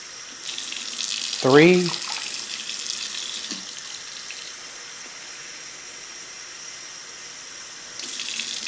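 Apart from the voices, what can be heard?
water running from tap into pot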